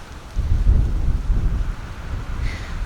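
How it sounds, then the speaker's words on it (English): Strong wind gusts buffet the microphone outdoors in a front yard, a loud rumbling low roar that rises and continues steadily for a few seconds. "this wind is something else"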